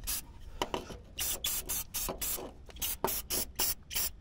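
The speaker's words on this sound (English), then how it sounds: "For quick touch-ups, this Rust-Oleum high-performance enamel," Rust-Oleum high-performance enamel spray can used for touch-up painting on a custom backhoe, a rapid series of short, close hissing spray bursts in an uneven rhythm, with no talking.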